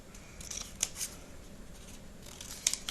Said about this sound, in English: I'm doing my angle cuts.